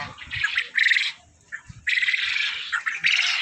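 Birds calling on a farm where quail and large geese are kept: harsh, raspy squawking bursts in bouts, nearby and fairly loud, with a short lull midway before the calls resume.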